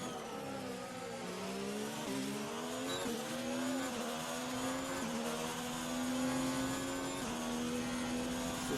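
A Formula 1 car in F1 2019 lapping the Baku circuit, its high-pitched engine whining steadily and rising through the gears in repeated shifts, loud and continuous with no talk over it.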